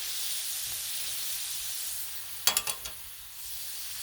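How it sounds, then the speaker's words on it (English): Turkey breast tenderloin sears on a Blackstone griddle with a steady, even hiss, broken midway by a short run of four sharp clicks or taps close by. "Getting a good sear."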